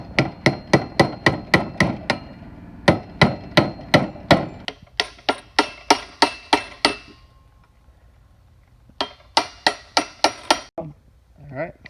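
A hammer strikes the cap of an ADP alternator pulley over and over, crisp metallic blows in quick, steady bursts with short pauses between runs, close and loud.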